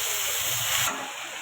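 Dill greens dropped into hot oil with garlic, a sharp burst of sizzling hiss that fades quickly to a softer frying hiss.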